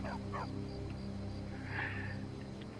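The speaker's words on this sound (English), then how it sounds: "Stupid dog." In Skyrim a dog lets out a couple of quick barks near the start, followed by a fainter yelp, all over a steady low game hum with no voices.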